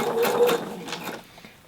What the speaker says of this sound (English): You're still going to be able to sew through it very easily.